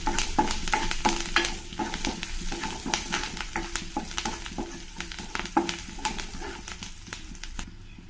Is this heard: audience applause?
no